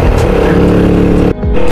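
A motorbike engine on a mountain road trip to Shimla drones loudly at a steady pitch close by, then briefly drops off before picking up again.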